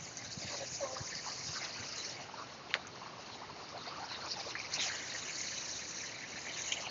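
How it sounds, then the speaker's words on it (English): A large waterfall in Banff pours in a steady, distant rush, a soft continuous wash of falling water with a few faint splashes and brief sounds of people nearby. "I think this is the biggest waterfall that I've been to so far."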